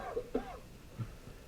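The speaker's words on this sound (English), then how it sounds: "He just coughed. He's coughing right now." A human patient simulator mannequin coughs, giving a few short, soft throaty bursts over a quiet room background, fairly close and faint.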